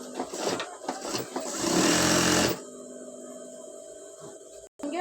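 A sewing machine runs in short bursts and then a steady whir while stitching a small petticoat panel onto a larger one, close and loud, before it stops and leaves a faint hum.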